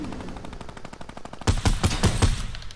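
Rapid gunfire in a video game: a fast run of sharp shots fires close and loud, the first bursts lighter and then a heavier string of five or six cracks, with no talk over it.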